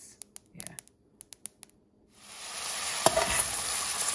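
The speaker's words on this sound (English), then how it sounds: "That's how the quinoa sounds when you're toasting it." Quinoa toasting in a pot for a vegan one-pot meal: a run of sharp, scattered pops and clicks, then a steady hiss and sizzle with an occasional louder crackle.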